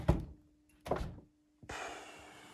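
A frameless door on a Mercedes CLS 63 being handled: two sharp thunks of the latch and door, then a soft whoosh as it swings open, close and clear with no talk.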